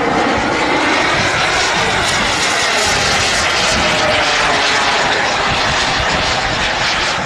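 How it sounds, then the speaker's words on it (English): A loud, steady model aeroplane engine roar fills the whole stretch, constant and close, with no pauses, at a model air show. "Lovely aeroplane."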